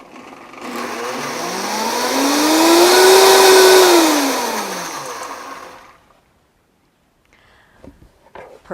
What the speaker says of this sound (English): Adding our potato flakes to the blender, and then going ahead and blending this up.